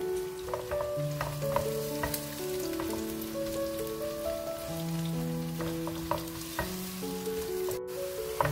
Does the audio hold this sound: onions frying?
yes